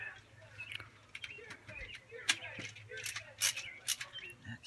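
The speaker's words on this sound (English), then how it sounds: "switch over to handy dandy ratchet" A ratchet tightens a distributor cap on a 2003 Nissan Frontier 3.3L V6, giving scattered clicking and creaking bursts close by, with irregular pauses and quiet background noise.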